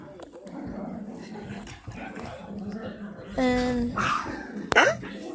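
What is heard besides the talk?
dogs barking in the background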